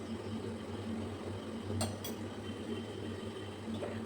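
Gram flour batter being mixed in a bowl, with a couple of sharp spoon clinks against the bowl over a steady low hum of a fan and soft background stirring.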